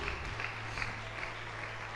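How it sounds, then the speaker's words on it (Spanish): A church congregation applauding in praise, faint, steady clapping heard at a distance under a low background hum. "aplauda al que vive, aplauda al que reina"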